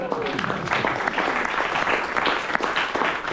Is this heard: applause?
yes